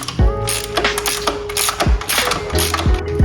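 Ratchet on original bolts of a KTM 1290 Super Duke R, rapid close clicking pawl strokes in repeated bursts with brief pauses between turns, loud and alone.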